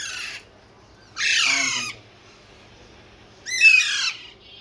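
Pet birds at a bird market, including lovebirds, cockatiels and parakeets, give two loud, harsh squawking bursts separated by quiet, with a shorter faint call at the start.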